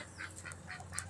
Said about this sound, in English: ducks, we have Duck and Donald.